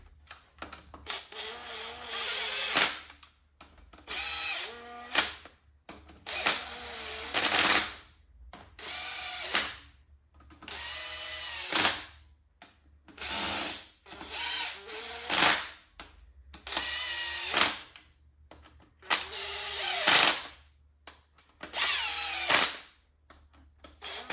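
Power tool rattling bolts into a single cam RB30 turbo engine, roughly ten short bursts of whirring and hammering separated by pauses, close and loud with no talking.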